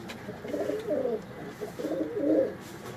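Pigeons coo near at hand in two soft, rolling phrases, a fine female among the birds kept by a Karachi pigeon fancier, with quiet room noise between the calls.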